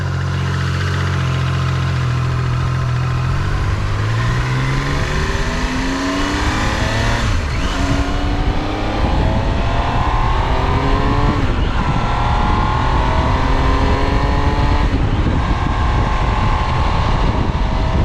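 A 2025 Triumph Tiger Sport 800 motorcycle accelerates hard through several gears, its engine note climbing, dropping at each shift, then climbing again, loud and close under heavy wind rush.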